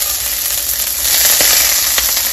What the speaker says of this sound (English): They're gonna sizzle and pop because of the water.